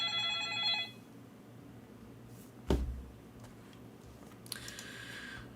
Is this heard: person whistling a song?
no